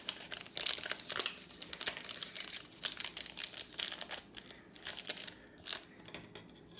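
A paper cupcake liner is crinkled and folded in half by hand, giving close, irregular bursts of soft papery crackling and rustling with no talk.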